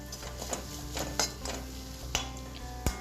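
Sardine curry masala sautés in a pan under a low, steady sizzle while a spoon stirs and knocks against the metal in sharp clinks. The clinks come at uneven moments, are heard up close, and no one talks.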